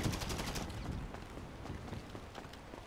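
Gunfire in GTA Online: a few quiet, scattered shots and short bursts, distant and faint, over a low game background with no talking.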